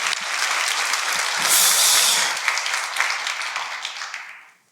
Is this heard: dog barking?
no